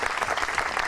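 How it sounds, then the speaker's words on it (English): A short, dense burst of crowd applause for two honorees, even and fairly close. "let's give a round of applause to Lauren and Lisa"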